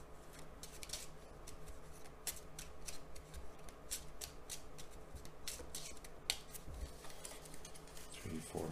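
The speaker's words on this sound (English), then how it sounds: "I'll just shuffle and find what their hand is going to be" Playing cards shuffled during a tabletop game of Subatomic, a repeated crisp riffling and flicking with sharp clicks, close and continuous over a low background hum.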